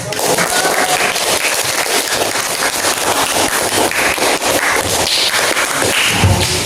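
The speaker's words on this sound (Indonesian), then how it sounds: "Ya, bos, beri tepuk tangan." Classroom applause for a student group during a teaching practice session, dense continuous clapping from many hands lasting several seconds, steady and fairly loud with no pause.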